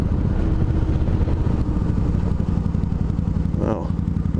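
A Suzuki Marauder VZ800 motorcycle being ridden, its engine a steady low rumble mixed with wind noise throughout, a rider talking over it.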